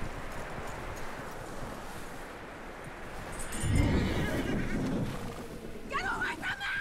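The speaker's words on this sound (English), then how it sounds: "that looks like a decent horse" A horse in the Western open-world game Red Dead Redemption 2 whinnies and neighs mid-clip amid hoof clatter and outdoor ambience, with talk and game voices throughout.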